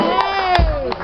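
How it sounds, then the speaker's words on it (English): A crowd cheers with high, sustained voices while a few claps break through, close and lively in a short burst. "big round of applause"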